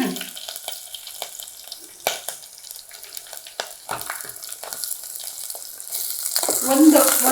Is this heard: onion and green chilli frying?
yes